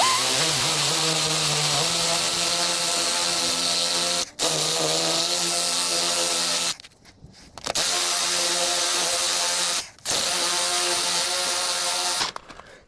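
A DeWalt drill bores a 16mm hole in steel for a CB antenna bracket, giving a loud, strained whirring with wavering pitch that stops and restarts in several bursts separated by short pauses.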